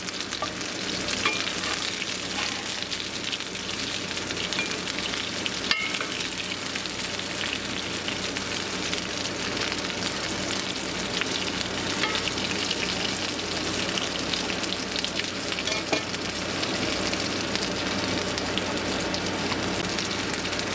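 Potato cakes fry in a pan with a dense, loud, continuous sizzle and crackle that holds steady throughout, close up and with no talking.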